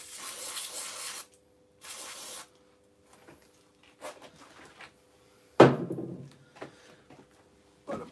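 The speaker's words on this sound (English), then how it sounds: "then just blast the agitation away with the spray" A cleaner spray blasts away loosened dirt in two short hissing bursts, followed by a sharp knock and scattered handling clatter nearby.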